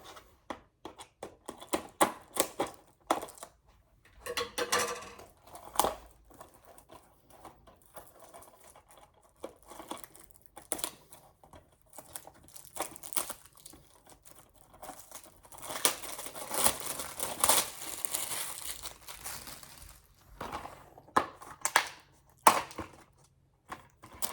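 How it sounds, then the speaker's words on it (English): Scissors cut open DVD packaging in a series of irregular snips, crinkles and plastic rustles, bursts of close handling noise separated by quiet gaps, busiest toward the middle-late part. "My scissors again."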